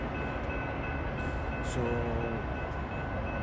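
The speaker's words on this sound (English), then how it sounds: "That's an express." An express train passing a metro station near Dee Road gives a steady, loud rolling roar with a faint sustained tone running through it, close by and unbroken throughout.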